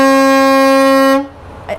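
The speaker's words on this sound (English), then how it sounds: "So Jody, I'm gonna go ahead and honk the horn." Horn of a 2023 Renegade IKON I4534RQ motorhome, one loud steady blast held for about a second, close and powerful, then cut off into quiet.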